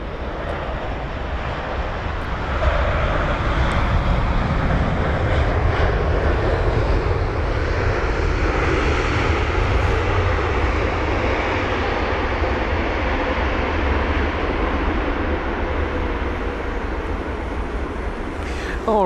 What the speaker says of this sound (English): so that was flight number AM7 for the Aeromexico 7879 Dreamliner